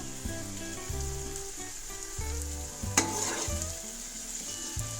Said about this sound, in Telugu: అల్లం వెల్లుల్లి పేస్ట్ పచ్చివాసన పోయేంత వరకు ఫ్రై చేసుకోవాలి సార్ చూడండి ఎలా ఫ్రై అవుతుందో చూపిస్తాను